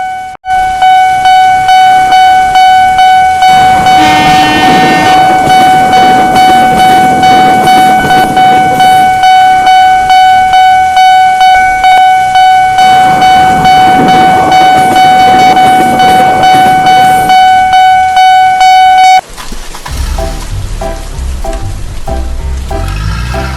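A railway level crossing at night, its warning bell ringing loud and steady in a fast regular pulse for most of the stretch before cutting off, then a heavy train rumbles past close by.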